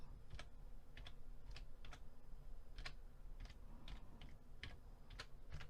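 Quick typing on a computer keyboard, a string of crisp, close key clicks in short irregular bursts, with the enter key struck among them; no talking.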